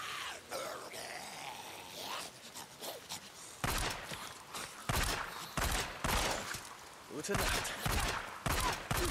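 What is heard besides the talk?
pistol gunshots in the video game Days Gone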